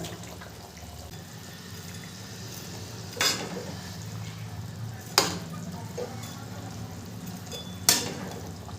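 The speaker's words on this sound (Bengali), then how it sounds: "ভেজে রাখা মাছগুলো এরপরে দিয়ে দেবো।" Rui fish pieces, already fried, go into a simmering pan over a medium flame, with soft bubbling and sizzling throughout and three sharp clatters as they are dropped in and moved about.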